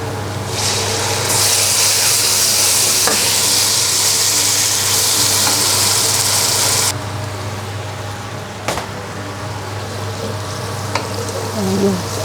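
Stir fry sauce base with oyster sauce sizzling loudly in a hot pan, a dense steady hiss that drops to a quieter bubbling fry partway through, with occasional clinks.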